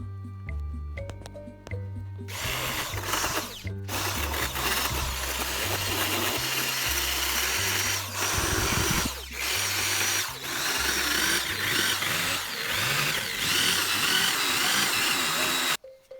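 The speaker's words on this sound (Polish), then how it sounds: "wykładam wiertło i odwiercam to na fabrycznych zgrzewach" A power drill whines loudly in repeated bursts, drilling out factory spot welds on car body metal, with grinding pauses between runs.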